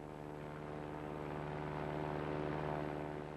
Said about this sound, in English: aeroplane lifts off and rotates into the climb